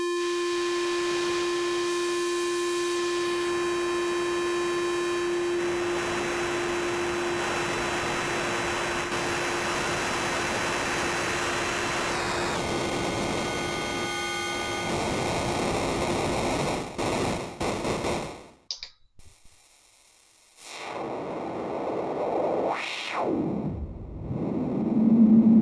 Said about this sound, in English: like white noise.